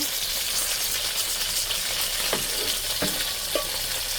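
Hilsa fish lightly frying in a pan, a steady broadband sizzle with a few sharp spatula scrapes and clinks, close and continuous with no talking.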